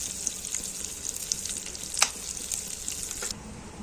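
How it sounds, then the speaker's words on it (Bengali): Potato and pointed gourd frying in hot oil with bay leaves, a continuous bright sizzle with small crackles and a sharper pop in the middle. "এবারে এগুলো একটু ভালো করে ভেজে নিতে হবে, তেল দিতে হবে।"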